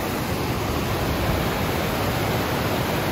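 A waterfall pours water from top to bottom in a steady, continuous broadband roar, close and loud, filling the whole span without pauses or voices.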